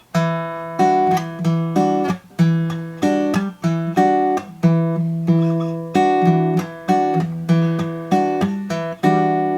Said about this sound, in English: I'm just gonna play this first chord over and over again with just the plucking